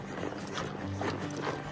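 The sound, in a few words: horses walking, hooves clip-clopping on a trail ride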